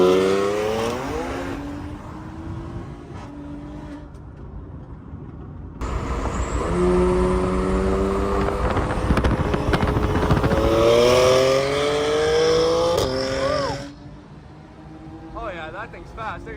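Custom tuned stage 2 BMW M3 F80 on pump gas, around 550 wheel horsepower, races another car, engine droning and climbing through gears with rising whine, loud and close, while people talk over it throughout.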